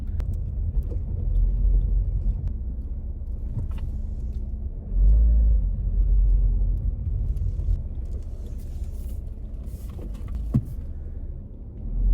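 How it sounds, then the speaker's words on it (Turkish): Car pulling away from a parked spot, a low engine rumble from inside the cabin that swells as it accelerates, with small clicks and a brief thump near the end. "Arabayı aldım. Arabayla çıkıyorum."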